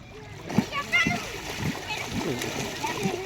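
Splashing in cold water while swimming at a resort near Jim Corbett, with irregular near splashes and water movement under the excited talk of children and adults.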